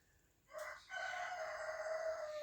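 A rooster crows once at a cabin in the morning, a clear drawn-out call after a short lead-in, faint and distant in quiet surroundings.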